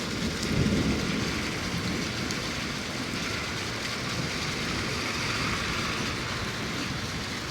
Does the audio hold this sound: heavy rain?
yes